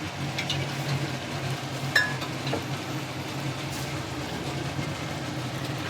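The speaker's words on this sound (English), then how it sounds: "Mix it all up. Make sure you give it a good mix." Brown sugar and oyster sauce are mixed into minced meat and vegetables for baked pasta, giving a continuous soft stirring and faint sizzle with an occasional scrape of the utensil.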